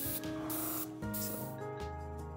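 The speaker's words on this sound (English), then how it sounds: "I'm gonna pull that pressure back to about 15 psi. That way I'm not spraying so much paint" An airbrush sprays navy paint onto a custom bluegill-pattern fishing popper at about 15 psi, a close, steady hiss that cuts in and out in short bursts with a faint tonal whine underneath.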